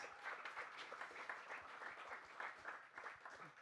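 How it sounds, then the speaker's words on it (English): Audience applauding at a live podcast taping, a steady wash of clapping from a room of listeners that lasts for several seconds at a moderate, fairly distant level. "We love some interim applause."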